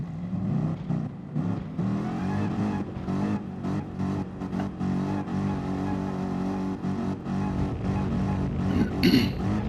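Race car engines from a GT3 racing video game hum and rev together at a rolling start, a steady layered drone with gear shifts and rising revs throughout, no talk.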